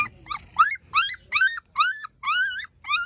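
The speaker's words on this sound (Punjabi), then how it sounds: "ਇੱਧਰ ਆ ਗਿਆ ਕੁੱਤਾ" A dog whimpers and yips in a run of about seven high, rising whines, close and fairly loud, with short gaps between them.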